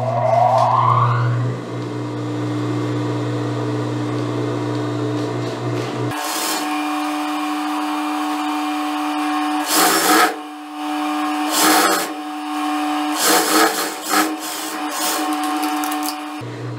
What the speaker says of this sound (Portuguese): Trago aqui para a máquina e já passo a costura com a margem de 1 centímetro